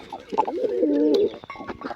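A pigeon coos close by, a soft throaty rolling call lasting about a second, with light rustling and faint chirps around it.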